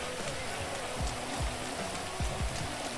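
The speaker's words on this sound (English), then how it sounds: "And then it's raining." Steady rainfall in the video game GTA 5, a continuous broadband hiss of drops on surfaces running the whole time, with a few low thumps breaking through underneath.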